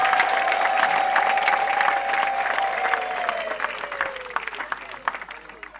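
A church congregation at a prayer gathering bursts into applause, dense clapping from many people with scattered cheers, while a sustained tone slowly glides downward and fades as the clapping thins toward the end.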